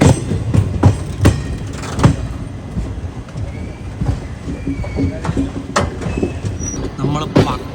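Sabarimala special passenger train with old coaches running on time, steady rumble and rattling clatter with periodic clunks throughout, while voices talk over the ride.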